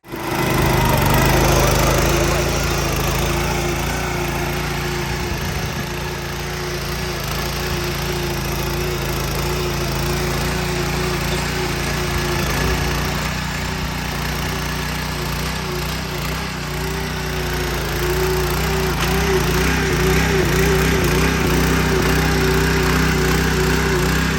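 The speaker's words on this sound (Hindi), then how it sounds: "मोटरसाइकिल से रोटावेटर चलाएंगे भाई, पहली बार हो रहा है ये।" A steady motorcycle engine drone with grinding, churning noise from a motorcycle-driven rotavator tilling soil runs continuously, loud and near.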